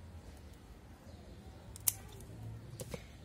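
Scissors cutting succulent stems, one crisp close snip followed by a softer second cut against quiet background noise.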